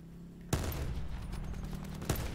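Gunfire in Call of Duty Blackout, two sharp close shots about a second and a half apart, with a rumbling battle bed and scattered distant fire in between.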